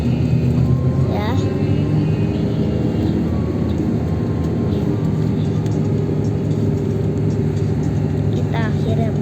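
Steady engine drone and road rumble fill the cabin of a moving bus pulling away from a highway rest area in Indonesia, with trucks nearby, continuous and loud throughout.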